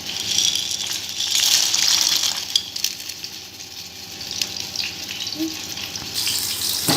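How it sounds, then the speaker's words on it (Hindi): Dry macaroni tipped into a pot of hot oil and water on the stove, giving a steady, close watery gush and bubbling hiss that lasts throughout with no talking. "अब हम इसमें मैक्रोनी डाल रहे हैं।"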